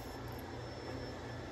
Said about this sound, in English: Jared is downstairs vacuuming at 1 a.m.